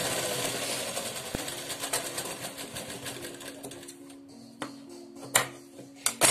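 A sewing machine stitches chain lace onto a sleeve frill with a steady fast mechanical whir and needle clatter, slowing near the end into a few separate thumps and clicks.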